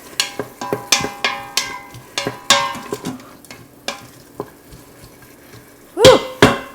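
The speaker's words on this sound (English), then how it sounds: "let me stir up these onions first" A spoon stirs onions in a pot, giving a run of sharp scraping, clinking strokes in steady rhythm, close and fairly loud, easing off midway before two louder knocks at the end; no talk.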